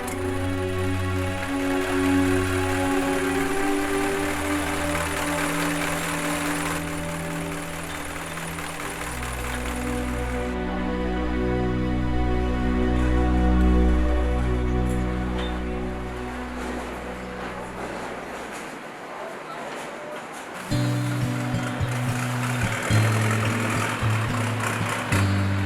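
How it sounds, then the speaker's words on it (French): A long-tail boat on the Chao Phraya River in Bangkok runs its propeller shaft off a truck engine. The engine drones loud and close and shifts pitch as it revs up and down. "Il s'agit d'une barque équipée d'une hélice fixée à une tige métallique, elle-même reliée à un moteur de camion."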